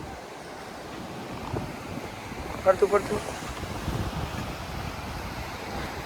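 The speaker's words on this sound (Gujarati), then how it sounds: "મોજો ને ધડબડાટી બોલે છે યારી બાજુ" Sea waves wash and crash around a small island with an anchored boat, a soft, steady surf hiss heard from a short distance. Someone speaks briefly over it.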